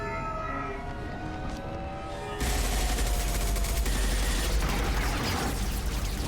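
Gunfire in the video game Mass Effect 2, a sudden dense barrage of rapid shots that kicks in partway through and keeps going loud and sustained, following a quieter stretch with a droning, siren-like tone.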